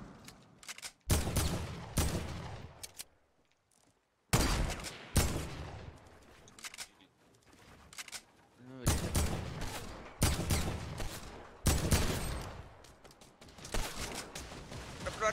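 Heavy shotgun blasts in a video game ring out in rapid bursts with short gaps between them, loud, sharp booms following one another, some clustered tightly and others spaced apart, with brief voices between the shots.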